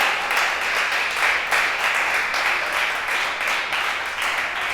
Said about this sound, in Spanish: Fuerte el aplauso al Señor, fuerte el aplauso.